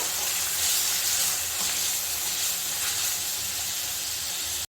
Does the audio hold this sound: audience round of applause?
no